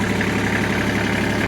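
A rented tractor's engine runs at a steady idle-like drone, close and loud, with an even low rumble throughout before cutting off abruptly at the very end.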